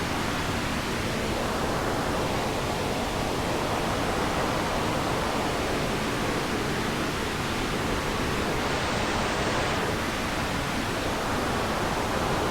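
Cherry Audio Yellowjacket synth noise passes through a notch filter, giving a dense, steady rushing hiss like a waterfall, with slow gentle phasing sweeps throughout.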